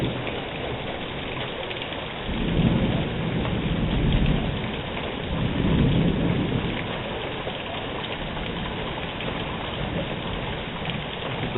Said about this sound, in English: we're getting a heavy thunderstorm